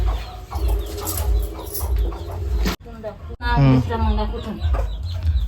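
A village hen clucks in quick, throaty bursts near the microphone as she runs to her chick, with outdoor background noise and brief talk.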